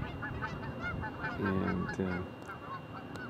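Geese honk repeatedly in loud bursts, fairly close, over a background of ducks, other birds and murmuring sounds in a field.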